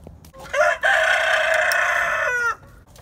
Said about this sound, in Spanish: vamos a sacar las gallinas para que coman un poco de insectos acá afuera